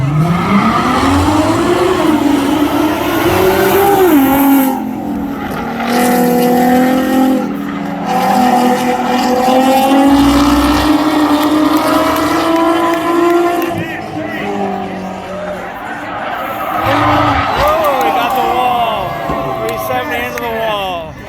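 A Nissan 370Z and a Corvette ZR1 launch in a spectator drag race at the Freedom Factory, engines revving and howling with rising, shifting pitch and tire noise, loud and close under excited commentary.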